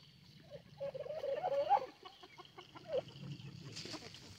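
A small olive egger hen with a fuzzy face clucks softly on a woodland farm, a short run of murmuring, rising clucks at a distance, with faint outdoor background noise.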